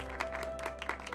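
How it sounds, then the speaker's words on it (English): Sparse, faint applause from a small audience greets a comedian leaving the stage in the game Loverwatch, a thin scatter of claps over a low background hum. "The previous comedian steps down from the stage to some paltry claps."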